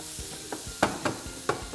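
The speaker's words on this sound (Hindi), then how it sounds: "3 मिनट के लिए हाई हीट पर इसे भूनेंगे ताकि टमाटर थोड़ा सा नरम पड़ जाए" Tomatoes frying over high heat in a pan for an onion tomato chutney, a soft sizzle broken by six or seven sharp spatula stirs and scrapes at uneven intervals, close and clear.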